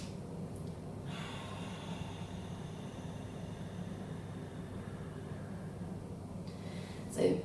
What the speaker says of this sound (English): I'm making a little bit of a sound as I'm breathing out